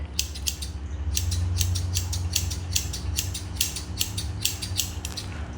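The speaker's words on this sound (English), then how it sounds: "when you're clipping like this with your scissors" Quick, rhythmic snipping of scissors clipping a poodle's hair into a teddy bear cut, a dozen or so close crisp cuts in a steady series over a low background hum.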